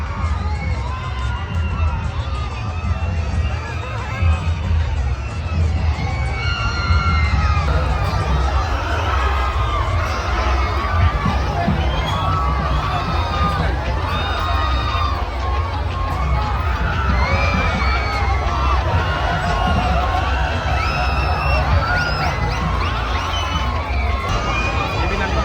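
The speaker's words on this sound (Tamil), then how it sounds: "செம்ம க்ரௌடு, எல்லாம் பயங்கரமாக கத்துறாங்க" A big festival crowd at the Cuddalore summer fair keeps up loud, continuous shouting and cheering, with children's screams and general babble mixed in for the whole stretch.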